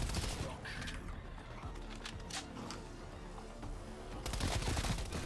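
Call of Duty Cold War Zombies gunplay: rapid, continuous automatic gunfire crackling throughout, moderately loud and dense, swelling again near the end, with no talking.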